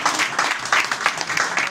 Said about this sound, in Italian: un grande applauso